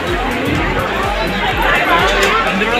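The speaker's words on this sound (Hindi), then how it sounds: "तो काफी भीड़ है यार यहाँ पे।" Outside Dasharath Bhawan in Ayodhya, a large crowd chatters steadily, many voices blending into a loud, close babble with shuffling movement underneath.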